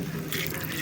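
Warm water runs steadily in a continuous stream, poured into tahini close by, with no voices.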